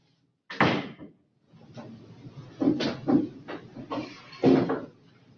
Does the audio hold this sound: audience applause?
no